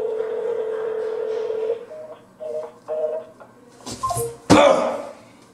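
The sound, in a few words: telephone dialing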